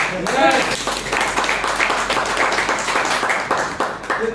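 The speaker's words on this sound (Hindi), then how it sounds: "ताली 4 5 7 से बजा, बाकी से नहीं बजा।" Audience members clap at a motivational success-story seminar, producing a dense, continuous patter of hand claps. Speech runs underneath the clapping throughout.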